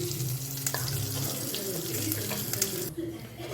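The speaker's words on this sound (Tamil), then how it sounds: "இப்போது 1 கப் தண்ணி விட்டுருக்கேன்." Water from a cup poured into a hot tempering pan with cumin, green chilli and curry leaves, a steady splashing rush that runs for about three seconds and then cuts off.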